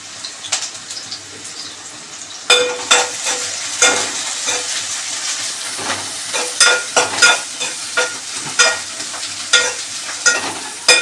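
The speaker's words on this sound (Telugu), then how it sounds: "ఉల్లిపాయలు బాగా గోల్డెన్ కలర్ వచ్చేంత వరకు వేయించుకొని" Onions frying in a pan until golden for Sunday chicken dum biryani, a loud close sizzle broken by repeated scraping stir strokes, with no talk.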